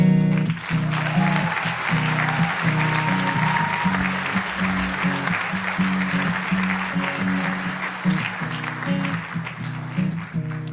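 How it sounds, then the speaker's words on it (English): An audience applauds as Staff Sergeant DeSalle is welcomed to the stage, steady clapping over a low sustained musical drone and hum that runs throughout. "please help me in joining in a round of applause for welcoming Staff Sergeant DeSalle to the stage"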